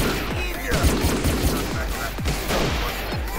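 Guns fire in GTA San Andreas running a Modern Warfare 3 animation mod: loud, rapid shots crack one after another in quick bursts, each sharp report followed by a short booming tail.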